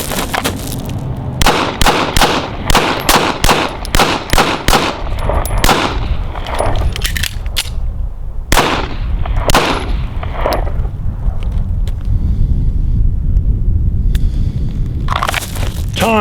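Pistol fire during a timed shooting drill, with rapid strings of loud, sharp shots in quick bursts, a pause partway through as the gun is reloaded, then more shots. The reports are close and harsh over steady background noise.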